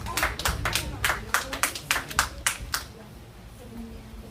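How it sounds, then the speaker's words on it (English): Rhythmic hand clapping at a church women's forum harvest service, a steady run of sharp claps from a congregation that thins and stops about two-thirds through, leaving quiet room tone. "Let's give her a clap offering"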